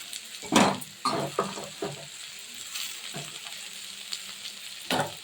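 Tomatoes tossed into onions frying in a pan for onion posto, giving a sizzle with a few quick stirring scrapes and clinks, louder bursts near the start and again at the end.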